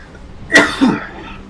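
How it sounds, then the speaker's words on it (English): A single person coughs once, a sharp, close, two-part burst with a quick follow-up, against a quiet room hum with no speech around it. "I wish I could stop coughing for you guys"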